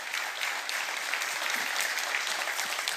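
A church congregation applauding in praise, dense continuous clapping from many hands filling the room evenly for the whole stretch.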